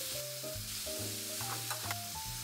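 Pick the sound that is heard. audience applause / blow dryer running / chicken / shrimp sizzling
shrimp sizzling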